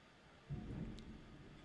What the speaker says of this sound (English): loud thunder and lightning over the TKW studios in Maryland Heights